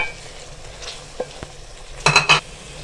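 Peas and carrots being fried in a pan for desi-style macaroni, a steady low sizzle with a few utensil scrapes and a louder burst of stirring clatter near the end, with no talking.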